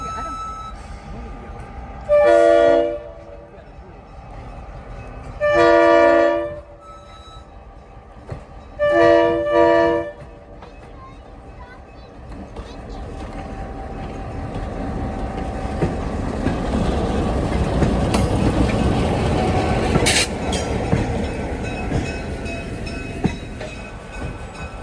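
A caboose hop train at Scranton Railfest sounds its horn in three long blasts, then the cars rumble steadily past with a rising roar and a few sharp clanks, loud and near.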